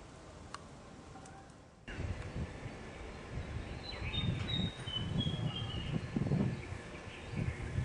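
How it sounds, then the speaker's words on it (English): Around 5:30 at pre-dawn under a full moon, a songbird sings a few faint, high chirping phrases in the distance over a low, steady outdoor rustle. "This is a bird call."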